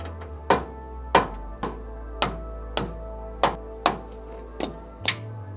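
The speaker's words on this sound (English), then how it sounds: "I'll be able to hammer out the pins and the bushings without too much hassle." Suspension pins and bushings are hammered out of a 35-year-old Toyota LandCruiser: about nine sharp metallic blows land at a steady, fairly even pace, close and loud, over a low background hum.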